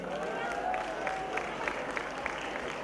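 Steady crowd applause fills a Cameroonian comedy stage show, dense clapping running evenly throughout with a few sharper claps standing out and voices murmuring underneath.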